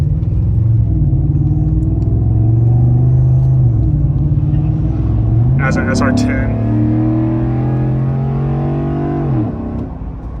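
A Dodge Ram SRT-10 pickup with the Viper V10 engine accelerating hard: a loud, close, deep rumbling engine note climbs in pitch, shifts gear midway, then keeps pulling. A few spoken words are heard briefly.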